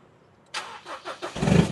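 A brief pickup truck engine start: a starter whirr with a few cranking pulses, then the motor catches into a louder rumble.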